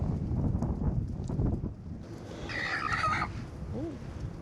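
Chickens clucking at an RV campsite, brief hen calls rising above steady wind noise and outdoor rumble, with a short pitched cluck near the end.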